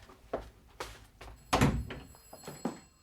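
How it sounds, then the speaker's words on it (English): A door closes in an old-time radio detective drama, a short thud near the middle among fainter knocks and rustles, with a distant rumble in the background. "Close the doors again."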